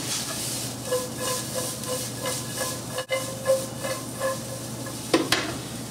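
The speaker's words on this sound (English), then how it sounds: "I'm going to saute that briefly for 2 minutes" Onion and pepper sautéing in a pan with a little salt, a continuous close sizzle broken by rhythmic stirring scrapes and a sharp clatter near the end, with no voices.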